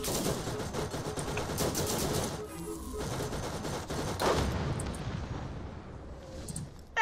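Gunfire in the Borderlands shooter game, a dense, continuous rattle of rapid shots and bursts that runs steadily for several seconds with one short lull, loud and close.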